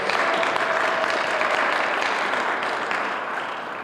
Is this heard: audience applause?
yes